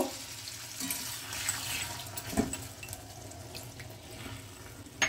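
A small splash of water is poured into a pan of pointed gourd cooking in spice paste. Soft watery pouring and gentle sizzling stay low and close, with a brief louder clink partway through.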